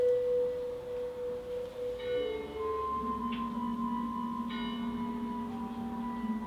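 Tolling bell from the opening of the Doctor Who serial An Unearthly Child, slow sustained tones ringing over a moody electronic drone, steady and fairly loud with no talk.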